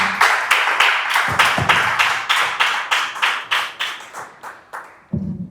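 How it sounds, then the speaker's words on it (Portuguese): Congregation clapping in praise to the Lord during a church service, a rhythmic series of about fifteen sharp, evenly spaced claps, close and loud, ending with a soft thump. "As palmas louvam ao Senhor"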